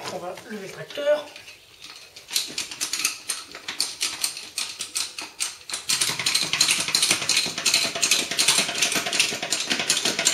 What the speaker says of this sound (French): Bon, on va lever le tracteur.